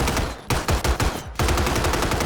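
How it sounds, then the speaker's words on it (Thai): Rapid bursts of gunfire in Call of Duty: Warzone, loud and close, with short pauses between volleys of automatic shots. "มีเสียงปืนด้วยนะ"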